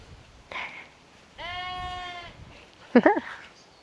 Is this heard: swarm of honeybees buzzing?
no